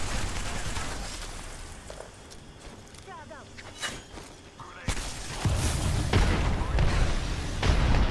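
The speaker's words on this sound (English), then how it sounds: "There's a lot of grenades going on." Grenades going off during a team battle royale match, sounding as scattered booms and sharp bursts of varying loudness, some distant and some closer, with a heavy blast midway followed by sustained rumbling.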